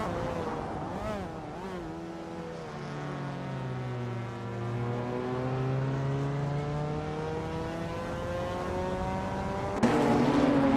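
Race car engines of GT4 and TCE class cars lapping Oran Park, a sustained rising and falling drone of revving engines that shift pitch as they pass, with a sharper roar at the very end.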